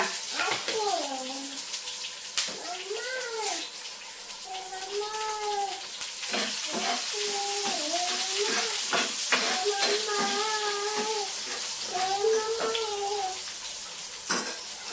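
Onions frying in hot oil with mustard seeds and cumin, a steady sizzle running throughout beneath a voice talking over it.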